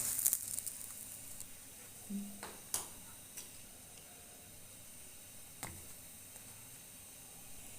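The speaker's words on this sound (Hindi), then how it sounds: "ये दूसरी भी हमने इसी तरह फ्राई करनी है। थोड़ा सा ऑयल डाल के" Bread fries in a little oil in a pan for chicken tikka shawarma, giving a soft low sizzle with a few sharp crackles and pops, faint and close.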